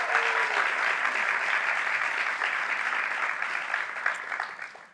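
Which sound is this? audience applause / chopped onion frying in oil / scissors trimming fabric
audience applause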